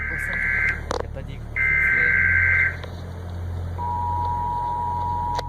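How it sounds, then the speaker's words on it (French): US Emergency Alert System alarm tone: two loud, steady high-pitched tone bursts of about a second each, then a lower sustained tone, over a low hum and faint background noise. "Ce son que vous entendez actuellement, c'est celui qui est émis par l'EAS, ou l'Emergency Alert System aux États-Unis"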